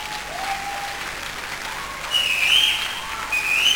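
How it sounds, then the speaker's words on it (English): A church congregation applauds during a Wednesday thanksgiving service, sustained and dense, with shrill whistles cutting through and swelling louder midway. "If you are clapping, clap for Jesus."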